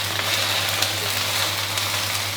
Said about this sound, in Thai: ใส่ผักไปแล้วก็คลุกเคล้าให้เข้ากันดีครับ